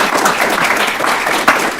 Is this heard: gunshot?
no